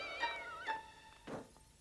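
Cartoon kittens give two short, high meows in quick succession, followed by a soft, breathy thud, all faint and close with nothing else around.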